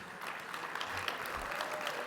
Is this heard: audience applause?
yes